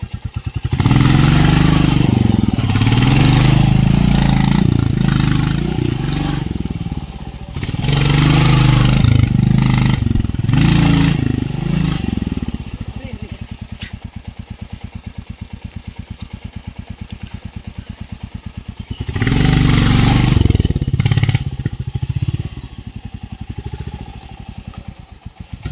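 Motorcycle engine revving hard in repeated bursts during wheelie stunt attempts in the rain, loud and close, with rough idling and clattering between the throttle blips.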